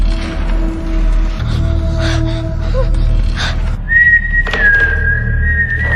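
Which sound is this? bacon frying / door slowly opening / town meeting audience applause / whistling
whistling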